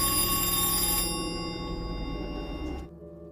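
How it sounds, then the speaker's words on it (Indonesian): A telephone rings inside a house in a remote village, a steady electric bell trill that continues loudly, then cuts off abruptly near the end. "telepon kembali berdering"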